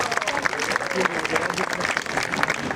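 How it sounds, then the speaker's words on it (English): Audience applause for dancers at a Hungarian cultural event, dense and loud clapping from a crowd that holds steady for a few seconds. "Huge applause for my friends here"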